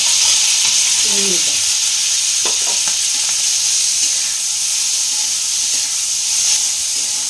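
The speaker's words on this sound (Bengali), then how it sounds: "তেলটা আমার গরম হয়ে গেছে, এরপর আমি এটা কিন্তু একটু হালকাভাবে ভেজে নেব।" Snails fry lightly in hot oil, giving a loud, steady sizzle and hiss close up, broken briefly by a couple of stirring clinks and a short squeak early on.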